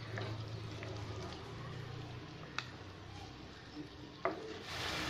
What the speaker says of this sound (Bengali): এবার আমি ম্যারিনেট করা মাংসটা দিয়ে একটু নেড়ে নিচ্ছি।